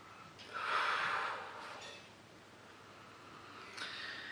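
Close nasal sniffing over a glass of Kernel Brewery Motueka pale ale, one long inhale followed by a shorter sniff near the end, quiet and with no talk.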